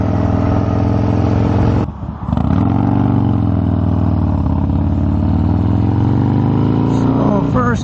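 Harley Dyna with a 95-inch motor pulling hard through the gears, a loud, close, deep engine roar with a brief drop in note at a shift, then a long steady climb that lugs from low revs.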